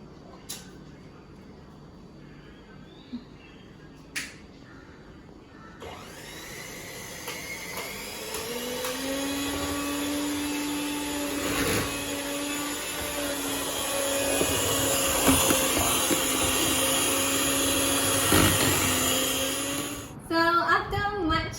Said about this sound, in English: now we're just gonna be whisking it all together